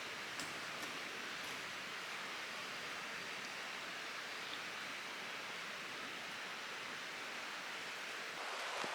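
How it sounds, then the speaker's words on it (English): Continuous, steady rush of a small river flowing nearby along a hiking trail in Laurel Hill State Park, soft and even throughout with no voices. "we're walking along a little river here"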